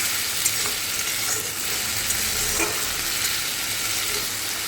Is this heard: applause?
no